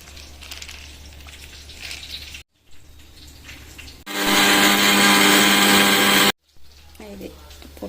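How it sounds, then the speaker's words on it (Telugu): A mixer grinder runs on roasted gram, a loud steady whirring roar lasting about two seconds, set between quieter stretches of kitchen background sound and brief pauses. "ఇక్కడ నేను పుట్నాలన్నిటినీ మిక్సీకి వేస్తున్నానండి"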